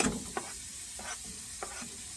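Onion and garlic sizzle in a hot pan, a close steady frying hiss punctuated by a few soft stirring scrapes, with no talking.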